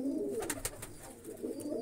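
Pigeons in a coop give a steady, soft, low cooing that continues close by throughout, with faint background noise.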